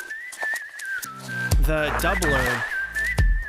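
Whistled melody in an electronic dance music drop, a steady high tone gliding along over a heavy thumping beat, with someone talking over it.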